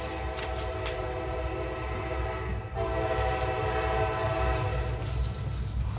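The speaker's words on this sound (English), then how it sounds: "So it's a train going by." A train going by in a continuous rumble, with rhythmic rail clatter and a sustained horn tone, moderately loud and steady for several seconds.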